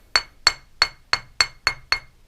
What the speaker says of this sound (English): This is a wooden hammer